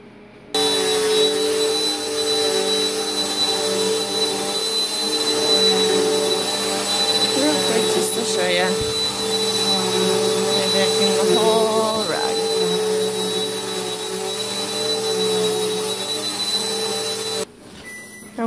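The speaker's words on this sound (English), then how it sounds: "So I'm going to go ahead and vacuum it." A vacuum cleaner runs over a rug with a steady, loud whine and hum for most of the stretch, then cuts off near the end.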